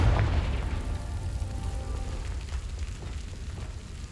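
A Confringo fire-blast spell bursts in a video game, a heavy low boom that rumbles and slowly fades over a few seconds with a crackling, rain-like hiss on top.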